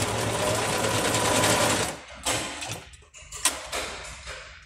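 A classic Bobina Mágica 270 sewing machine, over 50 years old, stitches an invisible hem stitch with a steady, loud mechanical whir for about two seconds, then stops, leaving a few faint clicks and handling noises.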